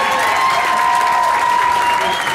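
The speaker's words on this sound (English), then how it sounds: "Let's give him a round of applause." Steady, dense applause from an audience at a rock karaoke winners night fills the clip, a continuous wash of clapping with a faint sustained tone running underneath.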